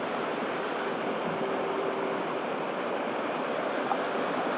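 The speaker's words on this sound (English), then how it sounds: "The creek is running high due to recent heavy rain." A creek running high after heavy rain in a New Zealand forest rushes in a steady, dense broadband roar, constant and fairly close, with no voices.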